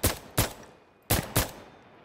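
Gunfire in a first-person shooter game: two pairs of sharp, loud shots, each pair about a third of a second apart, with a short gap between the pairs and no talking.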